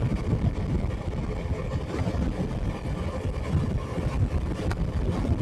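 A Suzuki V-Strom 250 motorcycle rides along, freshly serviced and running smoothly. Its engine hums steadily beneath heavy, continuous wind rush at the microphone, loud and unbroken throughout.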